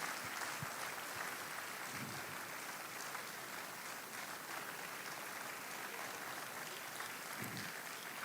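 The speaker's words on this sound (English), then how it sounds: "Please don't stop clapping." Audience applause at a TCA event, a faint, even patter of many hands clapping from a distance, sustained steadily with no voices over it.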